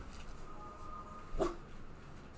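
A dog in the room gives one short, faint bark partway through, under a steady background hum.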